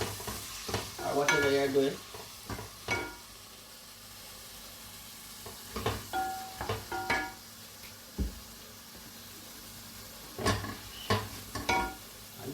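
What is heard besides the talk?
seasoning frying in a pan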